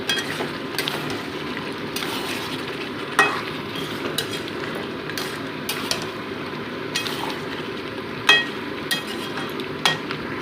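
Fried potato pieces being stirred and sautéed in chicken curry masala, with a steady low sizzle under repeated scraping and clinks of a spoon against the pan, close and moderately loud, no talking.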